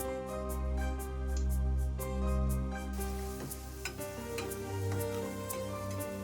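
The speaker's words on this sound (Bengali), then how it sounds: "এই শুকনো উপকরণগুলো আমরা একটু মিশিয়ে নেব" Ground cumin and coriander powders are stirred in a pan for a kachki fish curry, with a steady low hum and a run of regular light taps and scrapes of the spoon against the pan.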